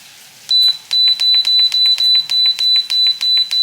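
A kitchen timer being set while potato soup cooks gives a rapid run of about ten sharp, loud high-pitched beeps in an even rhythm, close by and alone.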